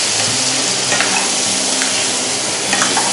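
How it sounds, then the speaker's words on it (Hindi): Spices being stirred in a hot frying pan while making Hyderabadi dum biryani, a steady close sizzle with soft scraping strokes running the whole time, no talking. "सारे मसाले डालने के बाद अब इसको मिक्स कर लेंगे"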